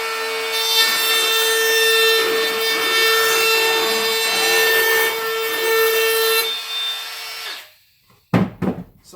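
A handheld wood router with a beading bit cuts a bead detail freehand along a wooden edge, giving a loud, steady whine for about seven seconds before it winds down, followed by a couple of sharp clunks.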